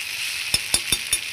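Finely chopped onion frying in a pan for a spicy drumstick curry, a soft steady sizzle under four evenly spaced sharp clicks of a utensil against the pan, close and fairly loud, with no talk.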